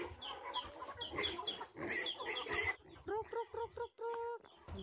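Chickens feeding around a house cluck and squawk close by, a busy overlapping chatter that gives way to a run of short rhythmic clucks, with a faint voice talking underneath.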